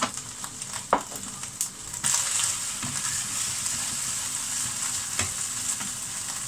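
Garlic paste frying in a pan while cooking chicken tikka masala, a steady close sizzle with a few sharp stirring scrapes and clinks, no talking.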